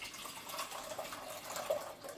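Water poured into a pot for boiling rice, a soft steady hiss of running liquid with slight gurgles, faint and continuous without pauses.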